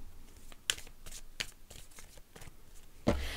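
Oracle cards are shuffled for a tarot-style reading, giving soft papery riffles and a few sharper card slaps, ending with a louder flick.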